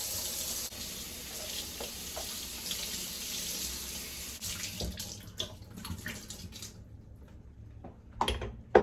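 Running water from a tap splashes steadily during hand washing with fragrance-free Palmolive soap, a continuous close hiss that thins out near the end and gives way to a few scattered splashes and knocks.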